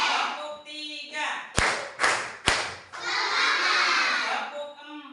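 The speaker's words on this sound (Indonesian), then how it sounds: "Tepuk 3." Classroom group of children clapping in unison during a counting clap game, three sharp loud claps in a row, with chanting voices before and a crowd of kids talking and shouting after.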